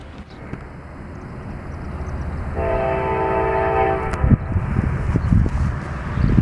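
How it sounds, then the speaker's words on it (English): A Norfolk Southern eastbound mixed freight train led by an EMD locomotive approaches through Fostoria, Ohio, its rumble building steadily while a loud, sustained horn blast sounds for about two seconds, then clattering wheels continue. "Norfolk Southern eastbound's coming."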